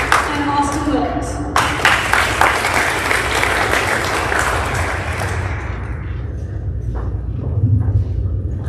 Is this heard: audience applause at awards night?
yes